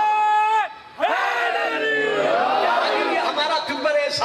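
A large crowd at a religious gathering shouts slogans together in a loud, unified burst after a brief pause, with overlapping voices and raised cries close by.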